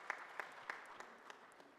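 An audience at an East African Court of Justice judicial conference claps, sparse, fairly faint applause with a few distinct sharp claps standing out, quickly thinning out over under two seconds.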